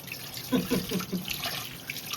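Dishes washed under water running straight from a broken pipe, a splashing stream with a few clattering knocks of utensils, briefly under faint talk.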